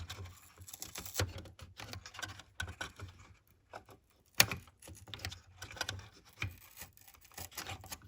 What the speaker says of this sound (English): So, I'll start pulling the tape off.